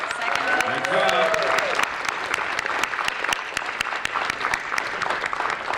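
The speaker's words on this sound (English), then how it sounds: "let's give a huge round of applause to Summit" Audience applause at a spelling bee, steady clapping from a crowd with a few distinct sharp claps, while a voice talks over the start.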